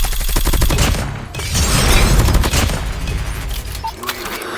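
Loud, dense bursts of Grau rifle fire in a Call of Duty match ring out close, with rapid rattling volleys, a short break, then more sustained automatic fire and explosive booms.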